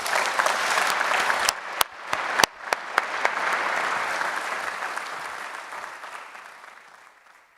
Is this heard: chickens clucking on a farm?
no